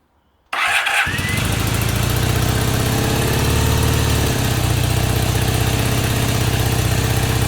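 A stone-cold Honda CB250N SuperDream motorcycle engine fires up on choke after a brief silence, then settles into a loud, steady, close-up idle with a throbbing low rumble that runs to the end.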